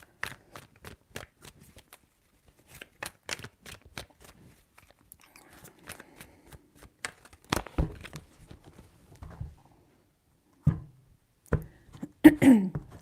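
Tarot cards being shuffled in repeated short bursts of crisp riffling and snapping, quiet and close, with brief pauses between rounds and a little faint talk near the end.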